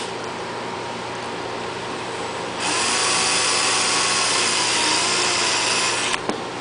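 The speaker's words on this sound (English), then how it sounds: "So drilling a pilot hole in there is pretty simple." After a low background hum, a power drill starts up and whines steadily at high pitch for a few seconds, drilling a 1/8-inch pilot hole in a plastic cover of a Yamaha EF6300iSDE generator, then stops abruptly.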